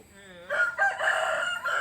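A rooster crows in one drawn-out call with a clear harmonic ring, close and loud, over a faint background murmur.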